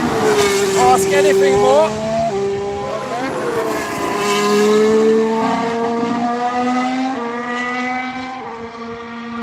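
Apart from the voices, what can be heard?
race car downshifting on track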